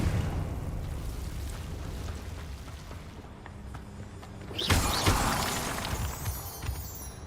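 A Confringo fire spell bursts in Hogwarts Legacy, a sudden loud blast that flares and then rumbles away over a steady low game backdrop.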